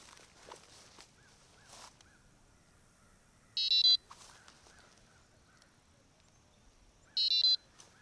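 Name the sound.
carp fishing bite alarms beeping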